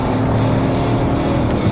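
A 2015 Lincoln Navigator and GMC Yukon XL accelerating hard side by side in a drag race, a loud, steady engine roar with turbo spool, close and continuous with no talking.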